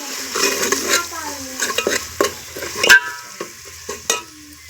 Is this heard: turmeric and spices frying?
yes